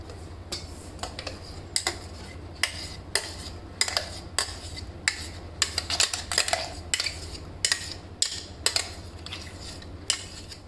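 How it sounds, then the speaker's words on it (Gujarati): A spoon stirs mango pulp into milk in a bowl, knocking out a run of uneven, close metallic clinks and taps against a low steady hum, with no voices. "તો હવે આપણે પલ્પને પણ દૂધમાં સારી રીતે મિક્સ કરી લઈશું"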